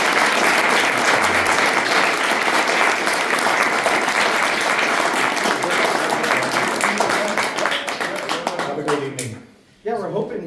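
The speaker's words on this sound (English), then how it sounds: "Let's give our candidates another round of applause." A debate audience gives the congressional candidates a sustained round of applause that stays loud and steady, then fades out near the end as a voice begins speaking.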